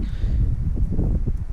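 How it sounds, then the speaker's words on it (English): Strong wind buffets the microphone at a lakeside fishing match at Lodge Farm's Sandmartin lake, a brief, dense, low rumbling roar with no other sounds. "it was super windy"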